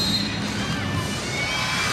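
A capacity crowd fills the Tokyo Metropolitan arena before a Japan versus Korea women's volleyball match, a steady, dense roar of voices and cheering heard from within the stands.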